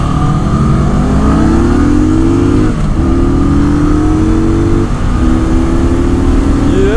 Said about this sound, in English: in first gear, I'm gonna try to take that corner at full throttle